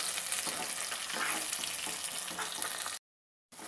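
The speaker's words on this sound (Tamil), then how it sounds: "சேர்த்து நல்லா ஃப்ரை பண்ணுங்கள்." Ground tomato paste frying in a pan for egg curry, a continuous dense close sizzle with faint stirring, cutting out briefly near the end.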